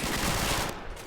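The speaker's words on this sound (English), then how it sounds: "A lot of machine gun fire from our own teams," Dense, continuous machine gun fire from Higgins landing craft in the World War II strategy game Men of War: Assault Squad, a loud unbroken roar of rapid shots that eases slightly at the end.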